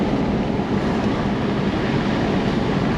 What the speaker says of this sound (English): The ocean's over there somewhere.